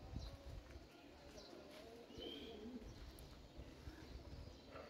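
Army-breed pigeons coo softly outdoors, a faint, low murmur under light rustling and distant background noise, with no voices.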